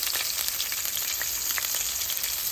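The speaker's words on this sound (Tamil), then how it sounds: "பூண்டு போட்டிருக்கிறேன் செத்தல் மிளகாய்" Garlic and dried red chillies frying in hot oil give a steady, close sizzle with fine crackling pops throughout, with no talking.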